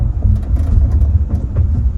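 Steady low vehicle rumble with road noise throughout, a compact car moving and braking during a test drive, close and fairly loud, no talking.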